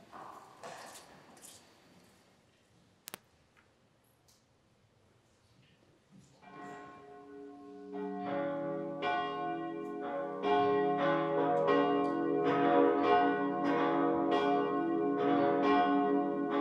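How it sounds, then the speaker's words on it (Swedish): Church bells peal inside and around a cathedral during a Sunday high mass, starting after a quiet pause with a single struck tone, then building into a loud, dense, continuous ringing of overlapping bells. "Låt oss nu lyssna till klockringningen."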